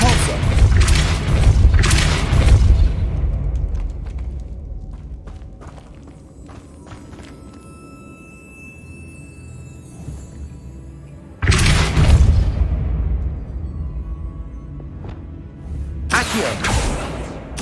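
Depulso force spell cast in the Hogwarts Legacy video game, heard as loud booming blasts near the start, again around twelve seconds and at the end, with quieter thuds and mechanical clatter in between.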